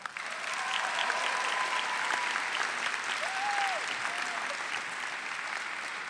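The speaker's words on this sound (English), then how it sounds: "Give him another round of applause." Steady applause from a graduation ceremony audience at Five Towns College in 2018 fills the hall, a sustained even patter of many hands heard from a moderate distance, holding constant for several seconds.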